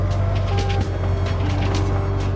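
Audi RS6 Clubsport estate with 570 hp, stripped with bucket seats and a roll cage, drives by as a steady, loud engine roar with a deep low rumble and a rising tone, with no pauses.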